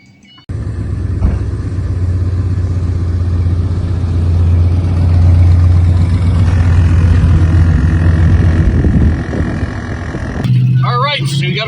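A 1996 Ford F-150 pickup with a 5.8-liter 351 Windsor V8 runs steadily at close range, a low continuous engine rumble holding for about ten seconds before a voice breaks in near the end.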